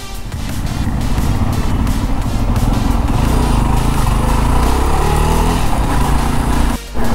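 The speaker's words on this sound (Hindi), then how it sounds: "भाई ट्रैफिक यहाँ पे भी बहुत सारी है" A steady, loud rumble of engines and heavy traffic near the Ban toll plaza in Jammu, with vehicles idling and moving close by, cutting out briefly near the end.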